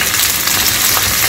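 Onions sautéing in a pan for a South Indian–style chutney served with idli and dosa, giving a steady, close, dense sizzle and crackle that runs unbroken throughout with no talking.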